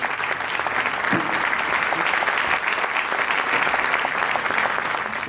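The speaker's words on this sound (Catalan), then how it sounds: "Un aplaudiment per a ell." A crowd applauds steadily and warmly at a tribute event, dense clapping that continues without pause throughout, with a brief voice underneath near the start.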